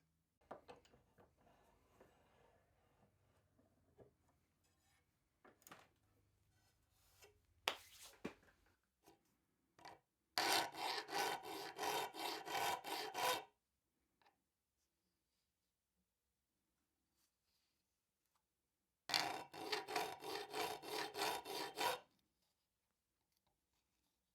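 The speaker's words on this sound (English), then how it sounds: "I file a small mark, I rotate carefully the file, and that gives me the space until the next mark." A hand file cuts teeth into a saw blade for a Viking-style saw, with soft scrapes and taps at first, then two bursts of rapid, rhythmic rasping strokes close up, separated by silence.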